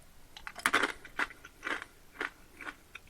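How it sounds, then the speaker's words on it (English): Chili-coated peanuts being crunched up close: five or six distinct crisp bites and chews land in an irregular rhythm, loud and dry, with brief quiet gaps between them and no talking. "when I was biting into those peanuts"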